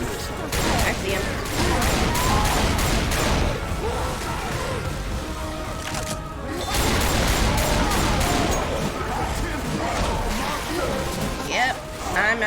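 Loud, dense gunfire from a zombie video game, rapid shots and crashes in long bursts with a brief pause midway, mixed with game effects and voices talking over it.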